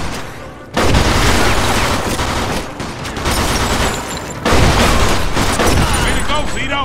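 Gunfire in the crime video game Mafia 2, heard as loud sustained automatic bursts and booming shots filling the whole clip, with game voices shouting over the barrage.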